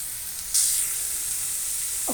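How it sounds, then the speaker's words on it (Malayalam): Chopped onion and carrot sizzle in a hot pan for kothu parotta. A sudden burst of bright hissing frying starts as they go in, then settles into a steady close sizzle. "ഈ ഉള്ളി ആഡ് ചെയ്യുന്ന കൂടെ തന്നെ നമുക്ക് ക്യാരറ്റും ഇട്ട് കൊടുക്കാം."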